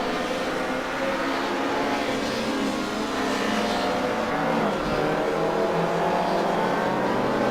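BMW M3 race cars lapping the Vallelunga circuit in the racing game Assetto Corsa, engines droning and revving steadily at high pitch with a constant loud roar and no speech.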